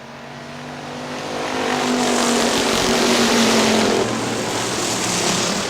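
Factory stock cars race at Hartford Speedway Park in Michigan, a pack of engines roaring past and swelling to a loud peak before easing back, with a steady droning rumble throughout.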